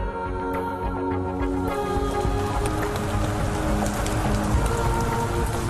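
Heavy winter rain pouring steadily, a dense, close hiss of drops hitting surfaces with no break, alone.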